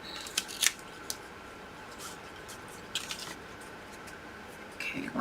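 Scissors snip through tape at a mitered angle while building a box, giving a few short, close, crisp cuts spread apart with quiet gaps between them.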